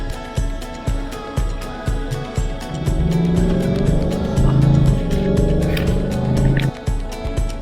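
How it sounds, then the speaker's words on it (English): Road traffic on a fall day near Grand Teton: a steady loud roar of passing cars with rumbling engines, repeated swells as vehicles go by close, no talking. "Just a lot of traffic here these days."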